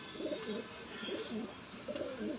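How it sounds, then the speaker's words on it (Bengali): A sick male pigeon, thin with its keel bone showing, gives three soft, throaty coo phrases at a steady pace, close by and fairly quiet, with no talk over them. "নর পায়রা।"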